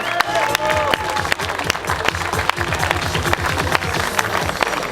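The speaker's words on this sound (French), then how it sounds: "Un tonnerre d'applaudissements pour nos 3 concurrents. Faites du bruit!" A crowd at a triathlon awards ceremony claps and cheers for the three winners, dense rapid applause with whoops and a few sharp claps up front, loud and close, with murmured voices underneath.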